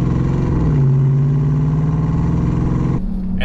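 A 2020 Jeep Grand Cherokee Trackhawk's Hellcat-style supercharged engine drones loud and steady at a constant rev, its pitch rising slightly before dropping off abruptly near the end.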